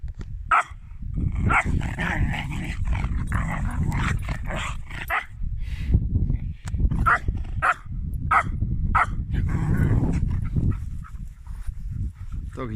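A dog barks, yips and whimpers excitedly over and over beside a carp fishing lake, close and loud, with people talking at the same time.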